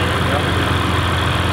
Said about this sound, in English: Oh man, I like how this sounds. Yeah. This sounds amazing. It sounds like a diesel.